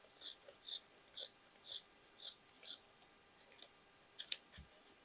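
Scissors snip through old denim jeans fabric for an upcycled overall dress, with about seven crisp, evenly spaced cuts followed by a few quicker snips, close and clear in a quiet room.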